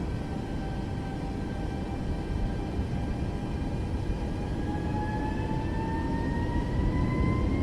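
A Boeing 737 MAX 8 in Microsoft Flight Simulator rolls for takeoff, a steady broadband engine roar with a whining tone that slowly rises in pitch as thrust builds.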